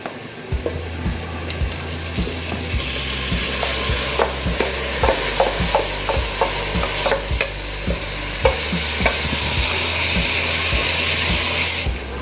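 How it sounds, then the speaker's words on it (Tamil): Tomatoes sautéed in a pan with onion and ginger garlic paste for Tamil tomato rice, a constant close sizzle punctuated by regular scraping and knocking strokes of a spoon. "இப்போ வந்து நம்ம தக்காளியை சேர்த்துடலாம்."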